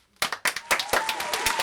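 A few people clapping at a small home party during a jackfruit seed eating contest, in short uneven bursts of claps close by, with some talk mixed in.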